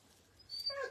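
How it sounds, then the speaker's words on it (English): A dog gives a short whimper and a couple of yips indoors, faint and close, alone without talk. "my dogs are going to bark"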